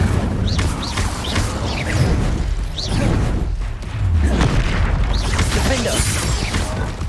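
Spell explosions and magical blasts from Hogwarts Legacy, bursting repeatedly in dense, loud succession amid whooshes and booms, with a voice calling out spell names over the action.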